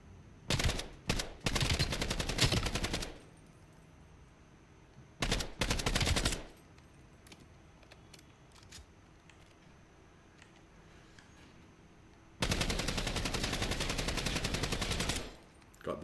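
Automatic weapon fire in Call of Duty Black Ops 7 during an altitude tactics event: three loud sustained bursts of rapid gunshots, preceded by a few single shots, separated by quieter gaps with scattered faint pops.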